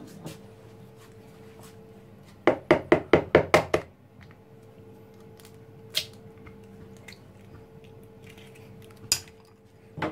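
Two eggs for an apple cake are cracked into a bowl, heard as a quick burst of six sharp, close taps followed by a few isolated knocks, with the kitchen otherwise quiet.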